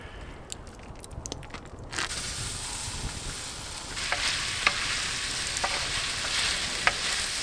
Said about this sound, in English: we're gonna get cooking the sausage here